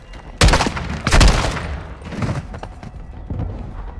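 Bursts of gunfire in the Modern Warfare II campaign: two heavy volleys early on, followed by scattered, quieter shots, loud and close with no talk.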